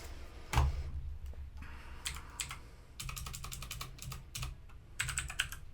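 Someone types code on a computer keyboard, with a close thump followed by clusters of quick, crisp keystrokes in short bursts separated by brief pauses.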